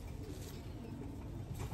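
A racing pigeon coos softly at close range, a low throaty murmur over faint background noise, with no talking.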